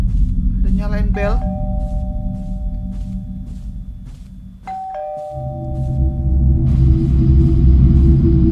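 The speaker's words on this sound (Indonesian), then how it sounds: "Ada yang nyalain bel." A doorbell chimes twice in a Chinese horror video game, a sustained ding-dong tone ringing out over a low droning ambience, with a brief voice heard just before the first ring.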